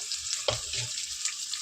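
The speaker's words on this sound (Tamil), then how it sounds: "வெங்காயத்தை போட்டாச்சு. அடுத்து நல்லா கிண்டி விட்டுக்கலாம்." Onions sizzling and frying in a pan for chicken gravy, a continuous bright crackle with a brief scrape and clatter of stirring partway through, close and alone.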